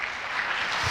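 Brief applause from a church congregation, a dense wash of clapping held steady and fairly close for about a second, with no talking over it.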